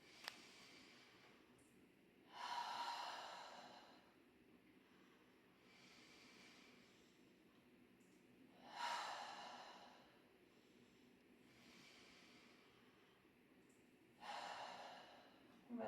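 Slow, deep breaths during a Pilates exercise, three airy breath sounds spaced roughly six seconds apart, close and quiet against near silence.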